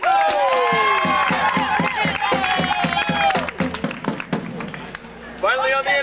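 A live audience applauds a performer at a 1992 Disney Christmas event, with a steady patter of clapping and some cheering, while a voice and music carry over it.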